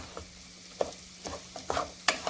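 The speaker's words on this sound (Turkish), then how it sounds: "5-6 dakikadır pilavım güzel kavruldu." Rice being toasted in a pan before water goes in for pilaf: soft, low sizzle with a handful of distinct spoon scrapes and stirring knocks, close and fairly quiet, no voices.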